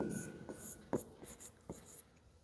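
Chalk or marker writing on a board during a math lesson on triangle areas, a series of soft, quick scratching strokes with short pauses between them, close and faint in a quiet room.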